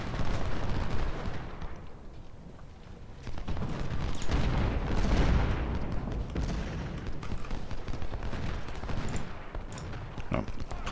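Cannon and artillery fire rumbles through a Civil War battle at Chickamauga in Ultimate General: Civil War, with dense, overlapping booms and rattling volleys rolling on continuously at moderate loudness.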